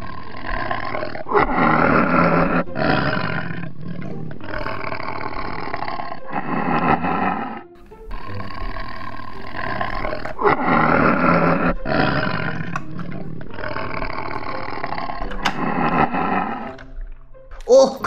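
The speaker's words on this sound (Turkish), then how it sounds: "kaplan şimdi gelecek" Repeated loud tiger roars from a toy tiger in a toy café play game, coming in several long bursts across the clip with brief pauses, with children's play noise and voices mixed under them.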